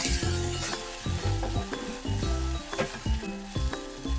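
Okra masala frying in oil in a pan, a close, continuous sizzle broken by repeated scraping stirs and light clinks of a spoon against the pan.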